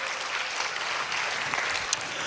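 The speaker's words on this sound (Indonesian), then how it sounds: "Kasih tepuk tangan dulu buat Tuhan kita." Steady applause from a church congregation at an Indonesian sermon on the Trinity, fairly distant and even, holding at one level with a brief sharper clap near the end.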